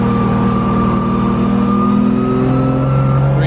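A car with a 1.5JZ engine revs hard on a dyno, a loud, sustained engine drone with steady harmonic tones slowly climbing in pitch as the revs build, close and alone with no talk.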